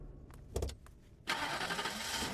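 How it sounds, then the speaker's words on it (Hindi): A car engine cranks and catches, then runs in a loud, steady rumble, preceded by a few soft clicks and knocks. "गाड़ी स्टार्ट कर।"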